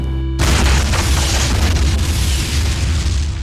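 A sudden, loud cinematic boom from a film trailer bursts in and rolls into a dense, roaring rumble that slowly thins out.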